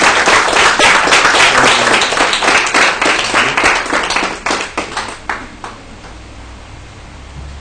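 Congregation applauds to welcome a child during an Urdu-language Sunday church service, a dense burst of clapping that thins into scattered claps and fades out by the end.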